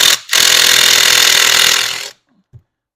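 An impact-style power tool loosens a bolt on a 2004 Toyota Sienna during engine work. After a brief blip comes a loud, continuous whirring buzz of about two seconds, then it stops, leaving a faint knock.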